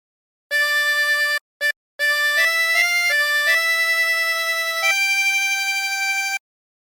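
Melody of What a Friend We Have in Jesus on a 24-hole tremolo harmonica: clear, reedy sustained notes stepping through the tune after two short opening blips, loud, close and solo.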